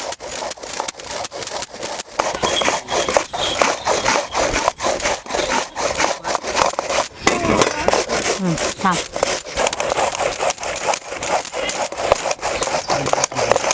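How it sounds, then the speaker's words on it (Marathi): A cucumber is grated on a hand grater in a home kitchen, with fast, rhythmic rasping strokes repeating steadily and loudly up close for the whole stretch, with only a brief pause partway through. "किसणीचं आपण सगळे काकडी किसून घ्यायचं पूर्ण असं बारीक पडते"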